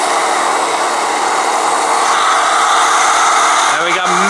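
A pressure washer spraying through a foam cannon while washing a car, a loud close continuous hissing rush that holds steady for a few seconds, with someone speaking briefly near the end.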